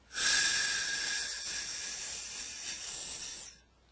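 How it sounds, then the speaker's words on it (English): A slow, deep breath drawn in steadily for several seconds as part of a calming breathing exercise, a soft close airy hiss that swells at the start and fades near the end, with no talking. "as simple as breathing in for a count of 10"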